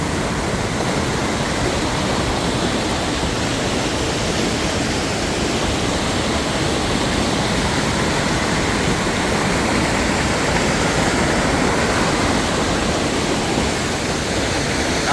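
River water rushes over rocks near its source, a dense, continuous roar of flowing water that stays loud and steady with no voices.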